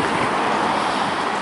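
Steady wind roars at the seaside, a broad constant rush with no pauses, close and fairly loud with microphone buffeting.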